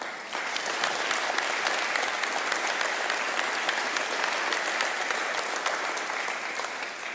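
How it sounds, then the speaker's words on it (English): Outdoor crowd at a Veterans Day ceremony in Fishers breaks into a steady, full round of applause, dense and even throughout without any speech. "Do I hear a round of applause for that?"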